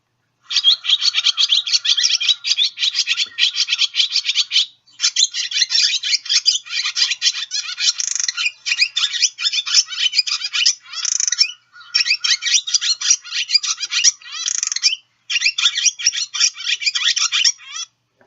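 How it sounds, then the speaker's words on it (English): A bird delivers a rich, continuous song of rapid vit and wit notes laced with dry clicks, loud and close, running in long bursts separated by brief pauses. "They produce a really rich song that's kind of these very beautiful kind of vit, vit, wit, wit, vit calls that often incorporate clicking into them."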